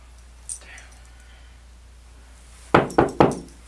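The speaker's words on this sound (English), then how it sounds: "Hey, yo, Clint, open the door" Three firm knocks on a door land in quick succession near the end, after a mostly quiet stretch with one faint tap early on.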